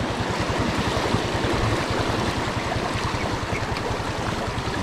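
Strong, clear river current rushing over rocks near Gethsemane Prayer Mountain in Rodriguez, Rizal, a steady, loud, close wash of water that fills the whole stretch with no voices.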